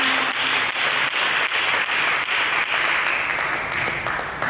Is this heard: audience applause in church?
yes